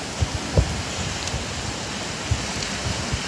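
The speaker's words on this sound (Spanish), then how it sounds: "La lluvia es pertinaz," Heavy, steady hurricane rain from Hurricane Delta pours along a seaside promenade in Progreso, a constant dense hiss with occasional low thumps of wind buffeting, no voices.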